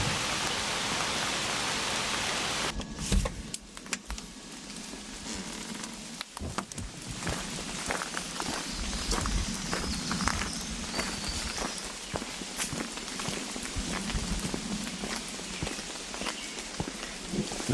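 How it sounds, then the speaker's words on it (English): Steady rain falls on surfaces outdoors at Forestville State Park, a dense, even hiss that fills the whole stretch, with scattered crisp patters and footstep-like crunches mixed in. "I still feel a little rain."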